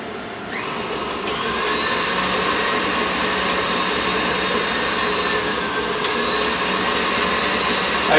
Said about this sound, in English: I've just got to stop the beater and just bring that down from the sides